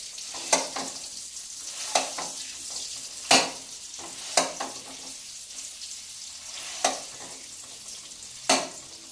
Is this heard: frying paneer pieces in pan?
yes